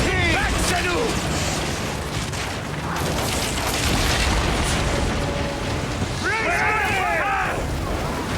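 Catapult fire and explosions rumble through a naval battle in Assassin's Creed Origins, dense booming and crashing under loud shouted voices, with crew members calling out orders over the din.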